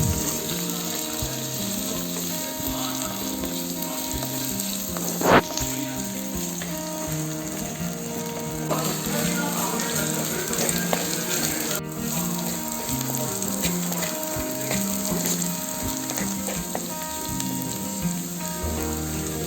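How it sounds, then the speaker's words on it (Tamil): Ten to fifteen garlic cloves and green chilies frying in a pan as part of a mutton intestine gravy, with a continuous loud sizzle and occasional clinks and scrapes of stirring, close and steady. "இது கூட ஒரு 10லேருந்து 15 பல் பூண்டு எடுத்து வச்சுருக்கோம் இல்லையா, அதையும் இது கூட சேர்த்து நல்லா ஃப்ரை பண்ணிக்கலாம்"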